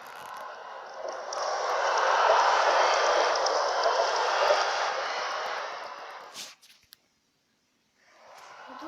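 A Minecraft portal gives off a steady whooshing drone that swells, holds for several seconds, then cuts off abruptly before a quieter hum returns.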